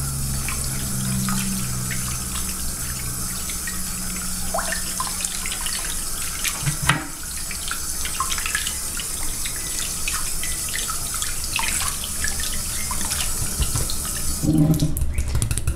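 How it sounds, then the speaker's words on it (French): Running tap water splashes steadily as hands are rinsed at a sink during a hand and nail care routine, a continuous close stream with small shifts as the hands move through it. "Et on vient rincer nos mains."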